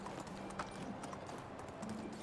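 Horse hooves clip-clopping in the Medieval Dynasty game, a steady string of soft, evenly paced hoofbeats under constant ambient noise, with no talk.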